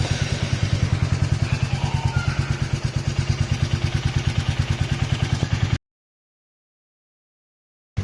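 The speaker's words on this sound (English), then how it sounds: "you've obviously got to start the bike before anything." Royal Enfield Meteor 350 single-cylinder motorcycle running after starting, a close, steady thumping idle with an even rapid beat for nearly six seconds before cutting to silence.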